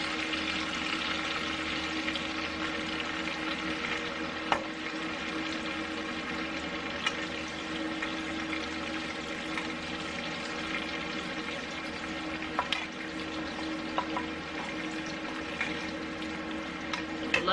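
Onions frying in oil in a pan, a steady low sizzle and hiss lasting throughout with occasional faint clicks, close by and without talk.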